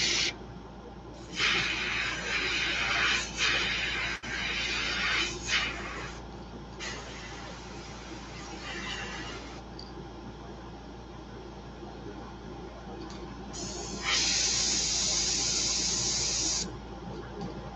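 An airbrush sprays black paint in short and long bursts of steady hiss, with pauses between them, as shading is added to a fishing lure; close up and fairly quiet, with no talk.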